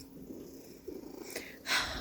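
A cat purrs up close as it sits on a person's face, a soft low rumble running steadily through the moment, with a brief rustle and a louder shuffle near the end.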